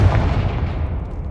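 The Confringo explosive spell going off in Hogwarts Legacy, a heavy close blast that opens loud and booming, then rolls away into a low rumbling decay over about a second.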